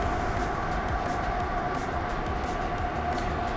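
A Levoit LV-H133 air purifier runs at its loudest fan speed, producing a steady broadband whoosh with a faint tonal hum, constant and close, with no breaks.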